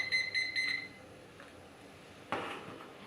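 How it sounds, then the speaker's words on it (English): A kitchen timer goes off while beer is being brewed. It gives a few bright beeps at the start, then goes quiet before a brief clatter. "our timer has went off"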